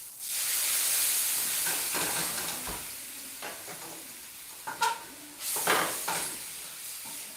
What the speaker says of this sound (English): All I'm doing is deglazing the pan, getting a clear runway for my egg.